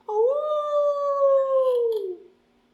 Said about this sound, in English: How about you're in the house and you hear a wolf in the distance doing an awoo?